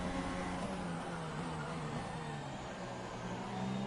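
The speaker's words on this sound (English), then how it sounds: "DRS flaps wide open, you can hear that car screaming as it's trying to make that turn towards turn" An F1 2017 video game car at Baku with DRS flaps open screams at a steady high pitch as it heads toward turn 4, a continuous loud engine tone with no talk.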